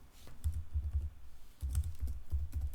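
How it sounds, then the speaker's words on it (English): Computer keyboard typing, quick bursts of keystrokes separated by short pauses while entering OpenSCAD modeling commands, close and clear with no talk. "I can type, for example,"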